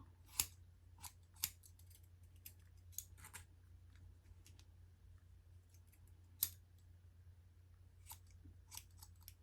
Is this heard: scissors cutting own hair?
yes